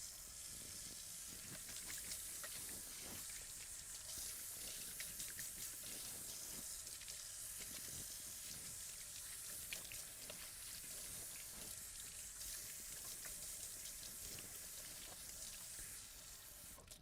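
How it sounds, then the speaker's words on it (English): Hands being scrubbed under a running kitchen tap before baking bread, a steady hiss of flowing water with faint splashing throughout, no voices. "the first thing I need to do is to wash my hands and give them a really good scrub"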